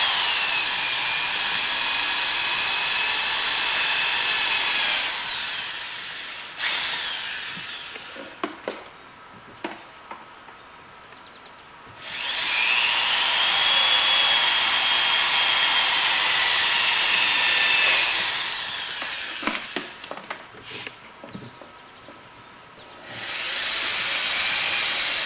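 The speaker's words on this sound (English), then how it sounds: "I'm just going to drill the holes basically right where it's dimpled out. I like to use a unibit, step drill bit. Cuts through the fiberglass real nice." A power drill with a step bit drills holes in fiberglass motorcycle race bodywork, whining loudly for several seconds at a time, with clicks and handling noises between bursts.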